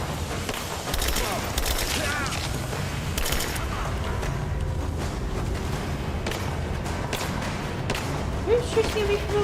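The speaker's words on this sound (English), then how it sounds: "Who's shooting at me from over there?" Video game gunfire rings out in scattered sharp bursts and thumps, mixed with running footsteps and ambient game noise, while a player talks over it.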